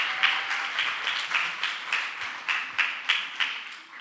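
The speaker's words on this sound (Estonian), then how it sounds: "Aplaus!" Audience applause at a school concert, a steady patter of many hands clapping in a hall with rhythmic swells, moderately loud and without talk.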